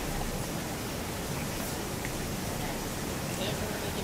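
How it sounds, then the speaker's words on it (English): Steady, dense hiss of heavy rain pouring outside, constant and unbroken throughout, with no distinct drops standing out. "It's raining in the background, you know."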